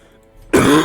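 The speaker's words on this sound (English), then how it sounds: "that explains this little cough you might have been hearing" A single short cough from a man recovering from illness, sudden and close after near silence, rough and breathy and almost like a throat clear.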